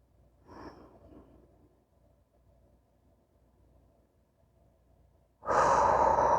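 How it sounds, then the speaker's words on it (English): Breathing during a calm yoga flow: a soft, faint breath near the start, then quiet, before a loud, close rush of breath near the end. "Remembering to breathe."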